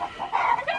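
A hen clucking close by while laying an egg on a homestead, a short run of throaty, rising clucks and squawks within under a second.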